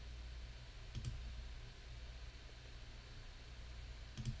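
Two quiet computer mouse clicks, well apart, against a steady background hum while a calendar page is published on a website builder; no one speaks.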